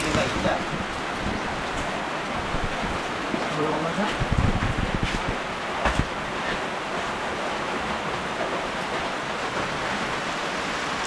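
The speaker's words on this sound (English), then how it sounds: "It's raining outside, so you can't really, obviously, you can't really do much with cooking outside." Rain falls outside during a birthday lechon preparation in the Philippines, a constant broadband hiss with occasional louder patches, fairly faint and continuous throughout.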